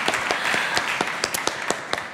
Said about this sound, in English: Yes, we can have an applause, I think.